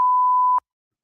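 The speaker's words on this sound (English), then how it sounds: "beep" A single clean censor beep, a steady half-second electronic tone at one pitch that stops abruptly, followed by silence.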